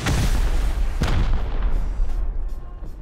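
Explosives blasting through a wall in the Rust video game: a heavy boom right at the start, then a second blast about a second later, each followed by rumbling debris that fades out.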